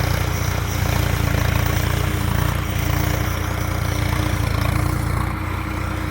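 A tractor with a rotavator tills a village farm field, its engine giving a loud, steady, rough drone that runs without a break.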